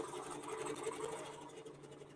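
A QBOT robotic quilting machine stitches a cross-hatching pattern, giving a steady, close mechanical whir with a rapid, even needle rhythm throughout.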